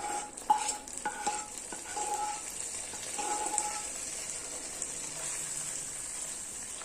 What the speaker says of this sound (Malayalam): ഇനി നമുക്കിത് റെഡിയാക്കി വെച്ചിരിക്കുന്ന പായസത്തിലേക്ക് ചേർത്ത് കൊടുക്കാം